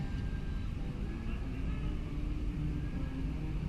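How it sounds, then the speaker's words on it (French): Roller coaster train at Parc Asterix departing and rumbling along its track, a continuous low mechanical roar heard from nearby, steady in loudness, with no talking. "Le premier train vient de partir."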